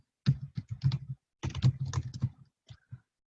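Quick bursts of keystrokes on a computer keyboard, close and clear, in two short runs with a brief gap between them and a couple of final taps.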